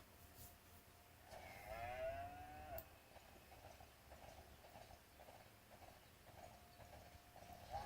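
A cow lows in a farming video game, one drawn-out moo in the first seconds over a soft steady background, followed by light rhythmic clopping and ambient game sounds, with no speech.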